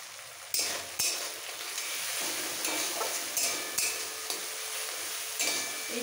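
Ginger with cumin and coriander powder frying in a pan, a steady close sizzle with spatula stirring strokes and occasional clinks against the metal.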